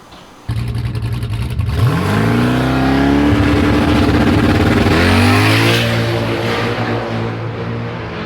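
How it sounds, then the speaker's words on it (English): Twin turbo Trans Am drag race car launching on a 7-second pass, a loud engine roar that surges in as it accelerates hard, with the pitch climbing through gear changes and a turbo whine as it pulls away. "the twin turbo Trans Am running also a 7-second pass"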